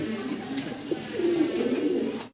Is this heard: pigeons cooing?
yes